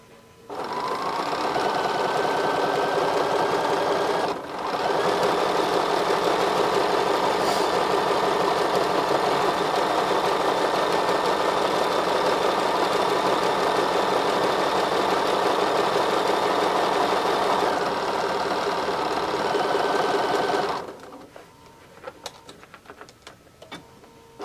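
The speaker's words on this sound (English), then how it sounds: "So now I'm going to sew up to the knot and back tack" A sewing machine stitching a rope bowl and back tacking runs in one loud, steady, continuous whir for about twenty seconds, with a brief pause near the start, then stops abruptly, leaving a few faint clicks.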